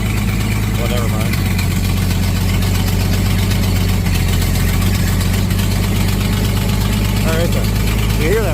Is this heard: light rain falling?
no